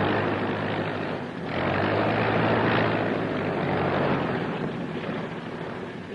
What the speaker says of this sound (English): Avión línea de Miami, vuelo segundo. Acaba de aterrizar.